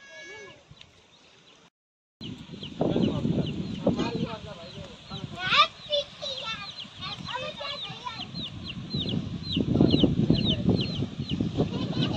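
A small chick offered at a riverside puja on the Saptakoshi cheeps and clucks in high, repeated bursts, close by. People talk over and between the calls, and there is a brief silent gap near the start.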